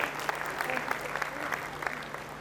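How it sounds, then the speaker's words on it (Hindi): Audience applause at a Rotary and Inner Wheel club event, a steady crowd clapping sustained throughout at moderate loudness. "A huge round of applause."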